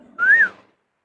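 One short, rising then falling whistle from a person, clear and close, ending in silence.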